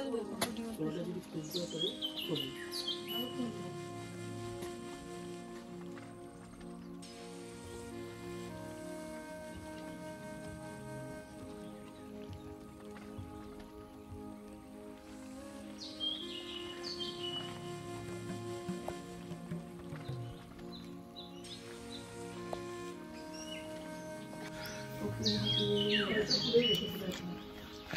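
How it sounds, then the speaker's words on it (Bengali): Wild birds call in a forest at Jayanti in the Buxa area of the Dooars in the dim early morning, with scattered chirps and tweets, some cooing and clear whistled notes rising over quiet background, faint voices now and then. "কিন্তু যে পাখির ডাকগুলো শুনতে পাচ্ছি"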